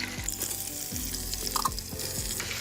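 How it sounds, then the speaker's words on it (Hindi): Marinated chicken dropped into hot oil with ginger-garlic paste for a chicken korma, hissing and sizzling loudly while a utensil scrapes and stirs in repeated strokes, close by. "इसके बाद हम इसमें डाल देंगे अपनी मैरिनेट हुई हुई चिकन"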